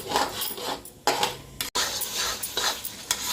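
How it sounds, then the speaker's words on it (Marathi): Tomato paste and spices sautéed in a pan for undhiyu, with a spatula scraping and stirring over a light sizzle, close up, in uneven strokes with a brief pause partway through. "आता ही टोमॅटो पेस्ट घालायची, ती पण व्यवस्थित परतून घ्यायची."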